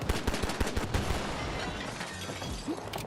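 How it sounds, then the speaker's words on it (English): Pistol gunfire in Battlefield 2042 fires in rapid, loud, closely spaced shots, followed by a dense wash of distant battle noise and debris. "getting on the pistols now"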